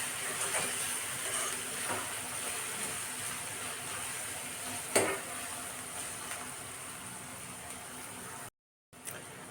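Vegetables fry in a pan as pav bhaji masala is stirred in, a steady close sizzle with scraping strokes and one sharper clank, ending in a brief cut to silence.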